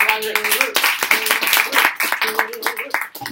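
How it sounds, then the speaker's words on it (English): Clapping from a small group at a food-cutting prep session, a dense patter of claps heard close and fairly loud, with people talking over it throughout. "Can we give Harrack a round of applause?"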